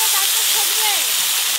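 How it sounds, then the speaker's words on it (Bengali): Water rushes into a hot pan of fried bottle gourd greens and vegetables, producing a loud, steady hissing splash with a faint voice underneath. "এবার জল দিয়ে দেবো।"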